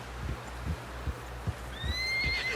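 A horse whinnies near the end over rhythmic hoof clip-clops, the footfalls steady and moderately close, in the video game Red Dead Redemption 2.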